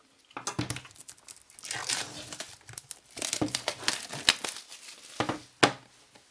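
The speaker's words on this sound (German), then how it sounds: "als erstes entfernen wir natürlich erst einmal die Folie" Plastic shrink wrap is peeled and torn off a small flat box, giving close, irregular crinkling and crackling bursts that run for several seconds.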